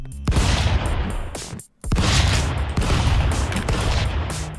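Continuous bursts of video game gunfire from Stick Fight, including shotgun and AK rifle fire, sound dense and loud, broken by one brief gap before the barrage resumes.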